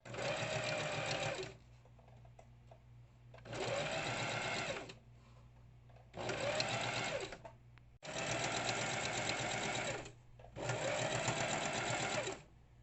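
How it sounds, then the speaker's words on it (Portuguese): A sewing machine stitches bias tape along the edge of a reusable fabric coffee filter in five steady bursts of rapid mechanical whirring, separated by short pauses, close and clear with no talking. "Agora, a gente vai na máquina, passar o viés aqui na beiradinha."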